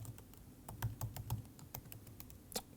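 Someone types on a computer keyboard, producing soft, rapid, uneven keystroke clicks that are quiet and close, with no talking.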